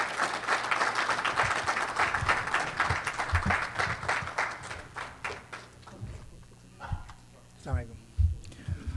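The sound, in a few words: audience applause welcoming comedian Faiyaz Haider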